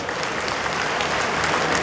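Loud, dense applause rises from a crowd at a village gathering in Nandgarh, offered as a birthday greeting. It holds as an even roar of clapping throughout.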